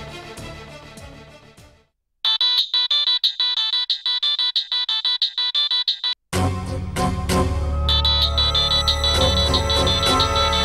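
A mobile phone ringtone plays loudly, a bright repeating electronic melody with rapid pulsing notes that cuts off briefly, then returns fuller with a deep bass underneath.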